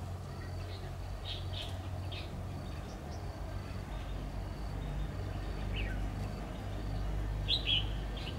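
Scattered short chirps and whistled phrases from a red-whiskered bulbul come and go over a constant low hum, with a louder burst of notes near the end.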